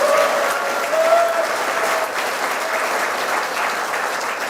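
A hall audience applauds steadily to welcome Liberty Korea Party leader Hwang Kyo-ahn at a Daegu regional economy forum, a dense wash of clapping from start to finish.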